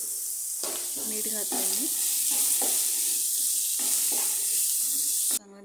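Beans, capsicum and carrot roast in a hot pan for egg fried rice, with a steady close sizzle and intermittent stirring scrapes while someone talks over it.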